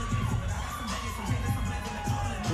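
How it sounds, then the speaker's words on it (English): A crowd at a Misfits x DAZN boxing event cheers and shouts, a dense sustained roar with rising whoops, loud and continuous with no clear break. "She's getting a lot of hype from the crowd"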